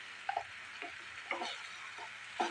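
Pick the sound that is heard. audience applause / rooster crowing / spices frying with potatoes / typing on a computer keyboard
spices frying with potatoes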